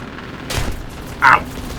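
Cannon fire from an enemy I-16 fighter in the War Thunder combat flight game: a single sharp boom and a second brighter impact a moment later, close and loud, with no talk.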